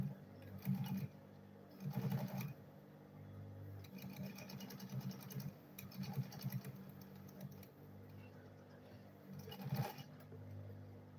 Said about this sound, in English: then I'll sew it again.